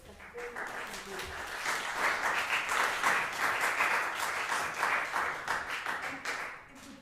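A seated audience at a music and philosophy research forum breaks into sustained applause after a talk, rising quickly to a steady roar of many hands and fading out near the end, with some voices mixed in.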